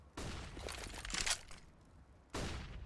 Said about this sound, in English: shoots out those control room windows.